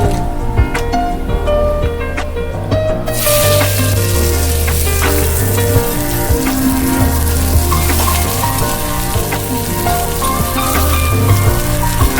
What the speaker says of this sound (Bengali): এই দেখো আমার মশলা ভালো করে ভাজা হয়ে গেছে